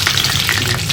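Dried and green chillies sizzle loudly in hot oil in a pan, a continuous close crackling hiss with no talk.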